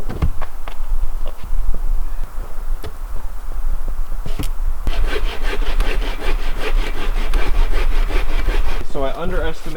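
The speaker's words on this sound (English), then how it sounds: "we'll start stacking them and sawing them" A hand saw cuts through stacked firewood pieces at a winter bushcraft camp, with steady, loud, close back-and-forth rasping strokes that quicken and grow brighter partway through.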